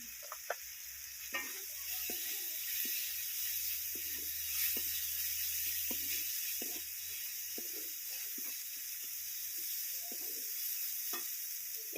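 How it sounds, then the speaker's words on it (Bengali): Fried small prawns tipped into a water lily curry, a quiet but steady sizzle broken by repeated stirring clatters and scrapes, with a low hum fading out midway. "কুচো চিংড়ি মাছ আমি ভেজে রেখেছিলাম সেটাই আমি দিয়ে দিচ্ছি।"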